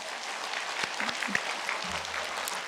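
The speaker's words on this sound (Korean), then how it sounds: "우리 서로 수고했다고 박수 한번 하실까요?" A church congregation claps together at a year-end sermon, a moderately quiet, steady wash of applause that lasts the whole stretch, with a low hum surfacing near the end.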